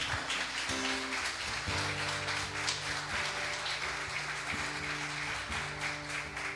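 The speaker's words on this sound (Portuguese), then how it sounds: "Vamos aplaudir o Senhor, irmãos." Church congregation applauding the Lord during a service, with continuous, moderately distant clapping from many hands and a low hum of music beneath it.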